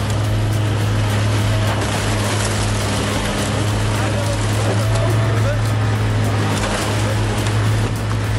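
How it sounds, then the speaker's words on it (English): A large Mercedes-Benz diesel engine runs steadily and loudly, a constant deep hum with a dense broadband roar held at the same level throughout. "a large-scale Mercedes-Benz diesel engine delivering robust performance and engineering reliability"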